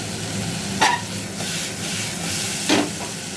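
Vegetables with potato being stir-fried in a pan for a roti side dish: a steady low sizzle with two brief scraping stirs of the spatula, close and fairly quiet, no talking.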